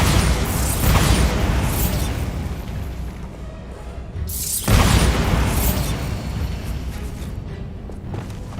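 Two heavy booming blasts from the Bombarda spell in Hogwarts Legacy, one at the start and another midway, each followed by a rumbling decay.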